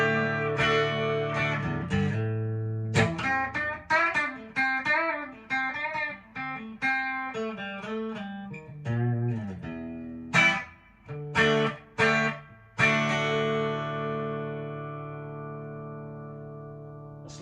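Harley Benton DC-60 Junior electric guitar played with a clean tone through a Boss Katana Artist Mark 1 amp with a touch of reverb, ringing chords and single-note phrases alternating with sharp strummed stabs, close and alone without talking.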